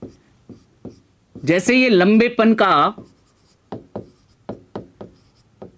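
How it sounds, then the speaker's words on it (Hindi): Chalk or marker scratching across a board in a Hindi biology class, a series of short, sharp strokes before and after a burst of the teacher's voice, fairly close and clear. "अगर मैं ऐसे लिखता हूं"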